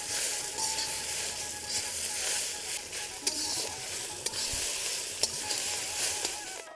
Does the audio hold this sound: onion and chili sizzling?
yes